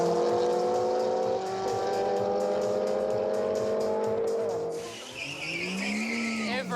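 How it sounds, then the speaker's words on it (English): Cars in a quarter-mile drag race flat out on a public street at night, engines roaring loudly and close with tires squealing, then a sharp shift to a passing whine as one speeds by. "It's a quarter-mile drag race flat out, but it's a public street"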